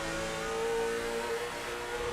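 A race car engine holds high revs and buzzes against the rev limiter on a rough track at Oswego, rough and steady, heard from a short distance.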